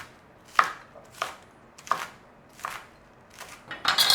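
A knife chopping scallions on a cutting board, six crisp separate strikes at roughly even spacing, close and clear, the last one a quick flurry, with no voices.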